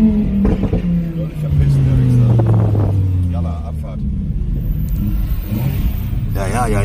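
Car engine revving and rumbling while driving, a loud steady drone with rising and falling engine pitch as people talk inside the car.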